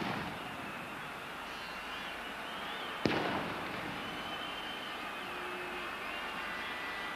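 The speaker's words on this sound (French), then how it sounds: "il y a des pétards qui éclatent juste derrière les buts" Firecrackers going off behind the goal at a 1971–72 Bastia versus Marseille football match, heard as a single sharp bang near the three-second mark over a steady, distant crowd roar.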